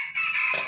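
A rooster crows once in a short, loud, close cry, with a sustained strained note that breaks into a harsher ending.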